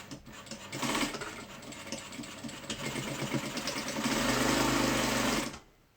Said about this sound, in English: So I'm gonna go ahead and stitch this right here